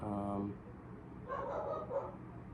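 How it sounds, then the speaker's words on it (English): A dog barks a few times, somewhat distant, beneath a person talking nearby; the barks are brief and fairly quiet. "Excuse the dog barking."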